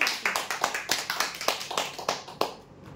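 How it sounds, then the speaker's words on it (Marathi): An audience claps for a prize draw winner of a bed, sharp, evenly spaced claps in a steady rhythm that thin out and fade near the end. "जोरदार टाळ्या होत्या यांच्यासाठी।"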